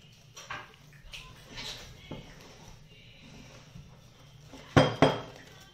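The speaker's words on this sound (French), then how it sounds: "On finit de bien mélanger." Chocolate fondant batter being stirred in a bowl, with soft scraping and clinking of a utensil against the dish, ending in two sharper clinks close by.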